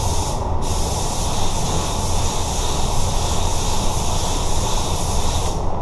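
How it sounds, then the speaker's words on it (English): A spray gun applies Spies Hecker 5650 waterborne sealer to a car panel, releasing one loud, continuous, close hiss of atomized spray that carries steadily for several seconds. "I'm gonna start by sealing it. I'm using a 5650,"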